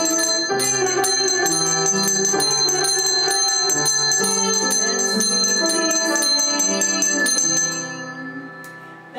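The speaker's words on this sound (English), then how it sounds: "Let's ring our bells while we sing" Handbells ring in a quick, jangling series of bright metallic strikes for several seconds, then trail off into a fading shimmer.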